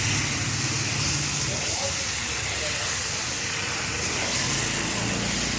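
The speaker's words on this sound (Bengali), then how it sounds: "ভিজে পটল ছেড়ে দিয়েছি ওই তেলের মধ্যেই" Wet pointed gourd sizzles in hot oil in a pan, a steady bright hiss that continues evenly throughout.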